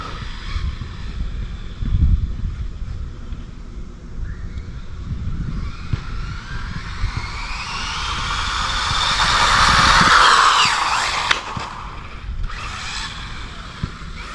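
Rlaarlo AK-787 budget RC car on a 2S battery with very hard tires, driving outdoors with wind buffeting, its motor whine rising to a loud high peak as it speeds past, then dropping away.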